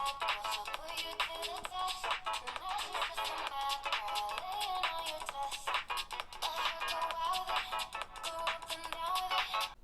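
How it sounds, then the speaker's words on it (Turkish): A song plays at full volume through the small speaker of an OUKITEL C32 smartphone, bright and thin with dense rhythmic beats and melody, steady and continuous with no talk over it. "Şarkıyı biraz ilerletiyorum ve bu şekilde bir ses performansı veriyorum"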